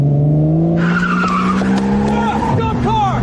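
A car engine roars loudly throughout with tires skidding and squealing, while people shout over the noise.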